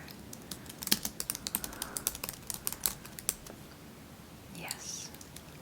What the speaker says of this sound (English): I'll just type your...